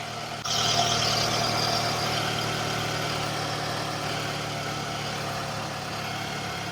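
A Scion xB car engine starts and settles into a steady, close idle, a low continuous hum with a faint higher whine on top.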